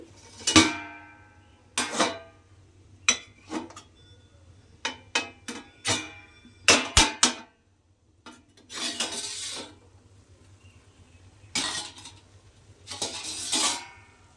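White pulao being uncovered and stirred in a cooking pot: a series of sharp metallic clinks and scrapes of a utensil against the pot, in irregular bursts with short pauses, close and moderately loud, with no talking.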